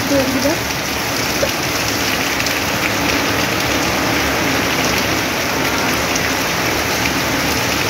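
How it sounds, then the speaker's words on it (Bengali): Steady rain pours down during an evening outing to a fair, a dense continuous hiss of drops falling on surfaces that fills the whole stretch at an even loudness, with no talking heard. "বৃষ্টিতে ভিজতে ভালো লাগছে বেশ"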